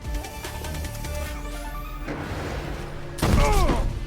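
Teppo matchlock guns fire in Assassin's Creed Shadows during a boss fight in a bamboo grove, with several sharp loud reports and crashing impacts over busy game ambience, a heavier blast near the end.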